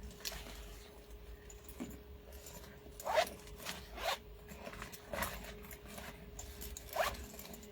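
A zipper on an item from a Taobao parcel is pulled open and closed in several short rasping strokes spaced about a second apart, quiet and close over a faint electrical hum, with no talking.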